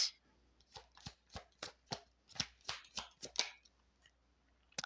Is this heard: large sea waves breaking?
no